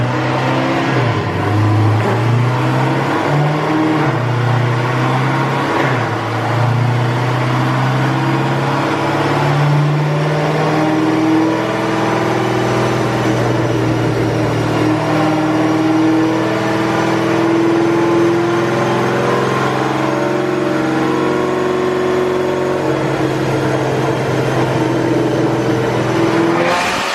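A Cadillac CTS-V engine running on nitrous roars on a dyno, holding a loud sustained pull as the pitch climbs and falls through long revving sweeps for nearly half a minute, close and continuous with no speech.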